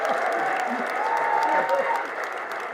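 An audience at a patent-rights debate event applauds, with dense continuous clapping and light cheering and voices mixed in throughout the short burst.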